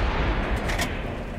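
A tank cannon fires in World of Tanks on PS4, a single boom heard against a constant engine rumble, no voices present.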